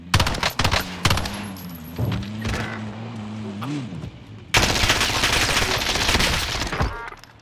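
Gunfire from the Call of Duty Warzone video game, with loud rapid bursts at the start and a dense sustained barrage in the second half, mixed with game sounds and a tonal hum in between.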